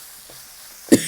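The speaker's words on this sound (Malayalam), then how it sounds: "ഞാൻ ചുമയ്ക്കണു." One sharp, close cough rises out of a quiet kitchen near the end, brought on by fumes from chili powder frying in oil for a homemade chicken curry.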